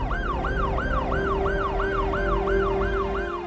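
An ambulance siren in the city-building game Cities Skylines 2 wails in a fast repeating rise-and-fall pattern, loud and steady over a low traffic rumble, with no talking.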